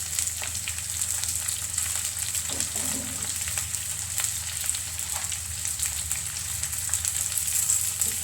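Curry leaves and fish curry ingredients fry in hot oil, giving a steady, close sizzle and crackle that runs throughout with faint stirring.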